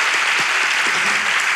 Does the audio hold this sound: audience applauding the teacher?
yes